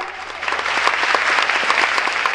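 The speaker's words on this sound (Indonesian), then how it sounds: "Tepuk tangan, amin." Enthusiastic congregation applause in a church service, a bright, dense burst of clapping that swells quickly and holds strong and close without speech.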